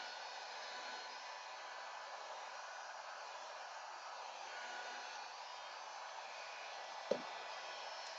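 Hair dryer blowing on wet paint splatters in a craft project, a steady airy whoosh held evenly throughout with one brief clack near the end, no talk.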